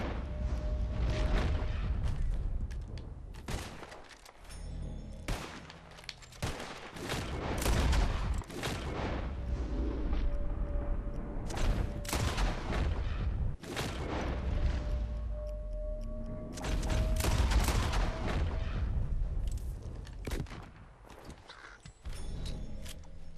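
Rapid bursts of gunfire in Red Dead Redemption 2 as players shoot at flying birds, sharp loud shots coming in irregular clusters over steady game ambience, with no talking.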